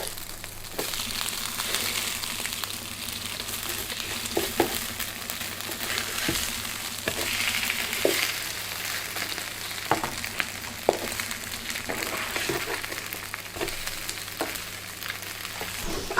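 Food fries in a covered pan over very low heat, giving a close, steady sizzle with scattered pops and crackles and a faint low hum beneath, no voices.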